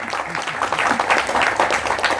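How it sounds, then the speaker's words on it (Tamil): Audience applause at the Seesaw movie audio launch, a dense steady patter of many hands clapping across the hall, with some crowd noise mixed in. "அது சொன்ன உடனே எவ்வளோ கைத்தட்டல் பார்த்தீங்களா?"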